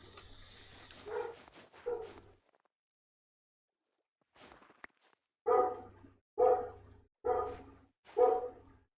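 A dog barks four times in a steady, evenly spaced series, loud and close, after a quieter stretch with a few earlier yips and whimpers; no one talks.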